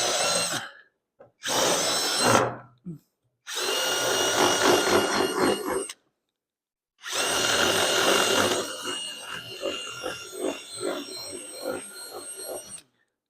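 A power drill reams out holes while a Harley is being fixed, whirring in several close bursts separated by pauses, the last burst pulsing with uneven load.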